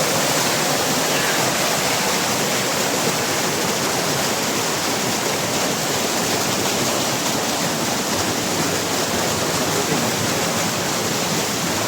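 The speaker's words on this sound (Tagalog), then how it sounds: "Lakas ng tubig." Heaven Falls in Davao de Oro roars in a constant, loud, broadband rush of falling water, close by and unbroken from start to finish.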